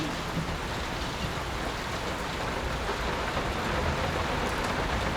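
Steady rain pours in the horror game Layers of Fear Remake, a dense, even hiss of drops on surfaces with no voices.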